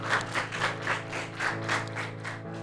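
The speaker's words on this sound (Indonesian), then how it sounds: "Tepuk tangan dulu dong" A small group claps during a podcast-style discussion about film acting: a short run of rhythmic, evenly spaced claps over a steady tonal background hum, fairly close and moderate in level.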